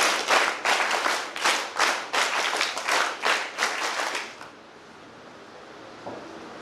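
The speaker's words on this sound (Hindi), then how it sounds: "एक बार जोरदार ताली बजाएं" Audience at an Independence Day NCC student event clapping loudly and steadily in rhythmic bursts for about four seconds, then stopping abruptly into near silence, with one faint knock near the end.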